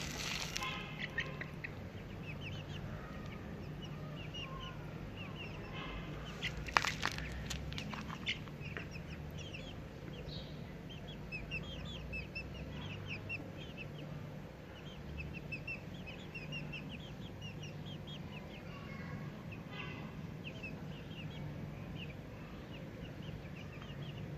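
Dense, continuous high peeping from many Ispenç chicks close by, a steady chorus with occasional louder chirps over a low background hum.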